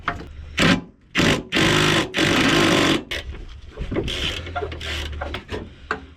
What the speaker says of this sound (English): Last bolt. Oh, I think I've cracked it. It is out. The last bolt has been removed.